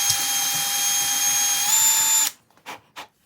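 A power drill reams out bolt holes for an aerofabb spoiler extension on a VW MK7 Golf R, whining steadily and close for about two seconds, rising slightly in pitch before stopping, followed by a couple of faint knocks.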